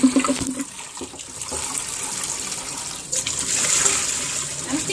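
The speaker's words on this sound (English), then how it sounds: "Emptying the drip tray is just opportunity to clean properly the drip trays, to remove all the residue after the whole day." Water splashes and runs steadily as a coffee machine drip tray is emptied into a sink, a continuous pouring rush with a sharper onset and a second surge near the end.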